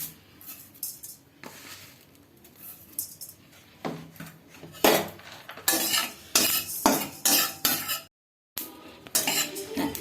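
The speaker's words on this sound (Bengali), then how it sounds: "এবার কড়াতে সাদা তিলটা দিয়ে দিলাম। সাদা তিলটা এমনি কোনো কিছু ছাড়া শুকনো খোলাতে সাদা তিলটা ভেজে নেব।" White sesame seeds dry-roasting in a wok with no oil, stirred with a utensil that gives repeated scraping, clattering strokes against the metal pan, growing louder and busier partway through, with a brief break near the end.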